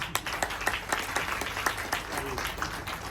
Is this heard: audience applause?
yes